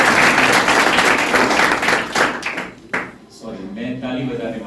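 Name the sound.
teachers' audience applauding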